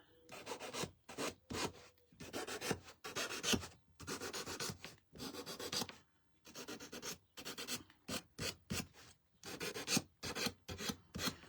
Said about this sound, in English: I'm just distressing the edges.